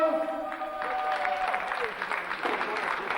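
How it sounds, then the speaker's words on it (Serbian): Applause rings out at a 2003 award ceremony in Sombor, honoring boxing legends entering the ring. A crowd claps warmly and steadily for a few seconds, with an announcer's voice over it. "Aplauz."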